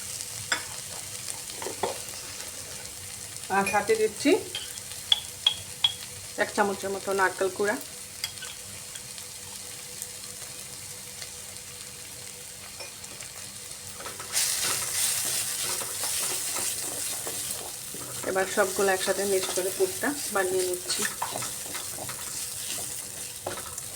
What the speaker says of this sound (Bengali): পনিরটা দিয়ে একটু ভাজা ভাজা করে নিচ্ছি